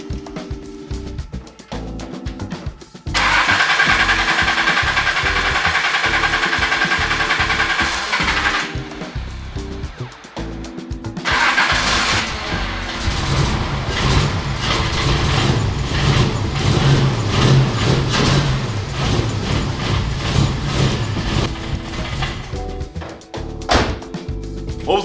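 An engine cold starting and idling as spring arrives, with a few mechanical clunks, then a loud roaring run that drops off and restarts into a steady rough idle close by.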